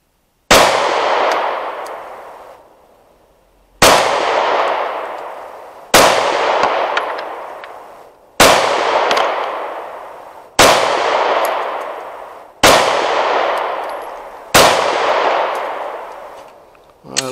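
A PPS submachine gun fires seven loud, separate shots outdoors at a range, each a sharp crack with a long ringing decay, spaced roughly two seconds apart with no talking.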